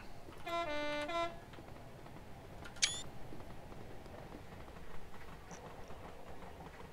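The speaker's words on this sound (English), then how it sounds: "So I get a shot from here of the whole train passing through." A BR Class 56 diesel locomotive hauls a train past on the Hastings Line, a steady rumble and rail noise heard from the lineside, with a short tonal sound near the start and a sharp click partway through.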